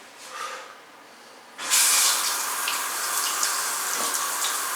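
A shower valve turned to the middle so hot and cold water both flow: after a quieter start, a strong, steady hiss of running water bursts on and keeps pouring close by.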